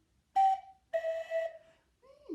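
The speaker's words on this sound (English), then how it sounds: "It's a cuckoo whistle." A cuckoo whistle is blown up close, giving two clear descending two-note calls, followed by a brief sliding sound at the end.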